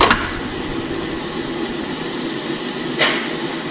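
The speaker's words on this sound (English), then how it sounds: "Butter's on the pan." Butter sizzling in a pan for a loaded quesadilla, a steady broadband hiss that holds evenly throughout, with brief louder crackles near the start and again about three seconds in.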